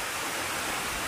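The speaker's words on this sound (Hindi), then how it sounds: "ये झरना ये वाटरफॉल" Waterfall in Bali, a steady dense roar of falling water heard close and loud throughout with no voices.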